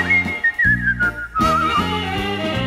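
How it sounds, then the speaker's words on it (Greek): A man whistles a lilting song melody in a Greek retro tune, the bright whistled line gliding and wavering over steady accompaniment with bass and chords underneath. "Μ' αρέσει να σφυρίζω"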